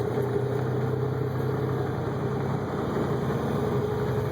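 Big rig truck engine rumbling steadily in traffic as the driver floats gears, a close low drone whose pitch drops partway through as the revs fall, with no talk.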